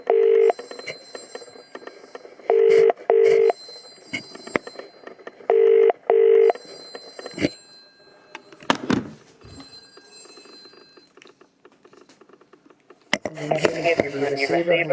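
A 1950 PMG series rotary telephone dialing a mobile number, bursts of electromechanical ringing in short regular pulses, then dial clicks and a muffled clatter, ending in a noisy handset sound; no speech.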